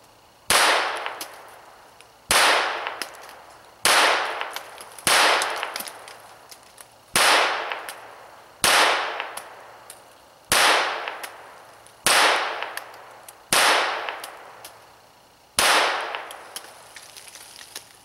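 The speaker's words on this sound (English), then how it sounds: "we're shooting standard velocity, CCI standard velocity ammunition through it" Browning Buckmark .22 pistol fitted with a Tactical Solutions barrel fires CCI standard velocity ammunition in a steady string of eleven sharp, loud shots, each about one and a half seconds apart with a short ringing tail, and no talking.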